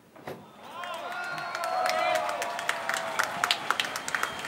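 A crowd cheers, whistles and claps at the breakthrough of a tunnel boring machine completing the first-phase Metro-3 tunnel excavation. Voices swell over the first seconds, and sharp claps grow more frequent toward the end.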